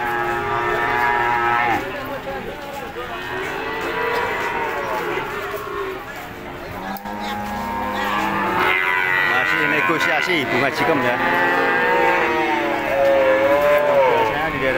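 Cattle moo repeatedly at the Ambarketawang cattle market in Yogyakarta, long drawn-out calls near and far, mixed with people talking throughout.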